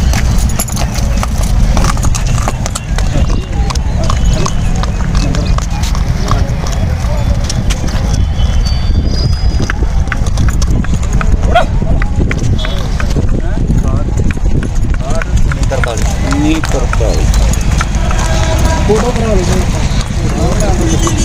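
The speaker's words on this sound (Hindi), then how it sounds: "घोड़ा तो बहुत प्यारा है आपका जी एक बार घुमा के लाओगे बाबा जी" A horse at a horse market in Amritsar, Punjab, walked around with hooves clip-clopping in a steady close rhythm, with people talking over it throughout.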